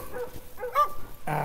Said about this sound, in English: my little Iditarod dog